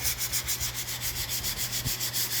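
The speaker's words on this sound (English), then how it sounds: "Just getting a good nice tail of sanding in." Rhythmic back-and-forth rasp of sandpaper rubbing on a carved wooden guitar neck, steady and close, with no voices.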